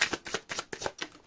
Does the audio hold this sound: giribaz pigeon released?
no